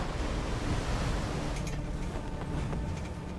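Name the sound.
wind at the coast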